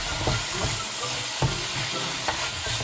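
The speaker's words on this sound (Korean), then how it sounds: "바로 볶아주세요." Soy sauce stir-fried in a hot pan, with a continuous sizzle and hiss broken by repeated scraping strokes of the spatula, close and fairly loud.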